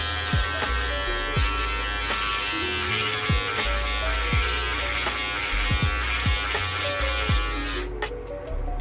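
Electric hair clipper with its lever open at a half-inch setting buzzing steadily up close, a continuous motor drone with repeated passes through hair, stopping near the end.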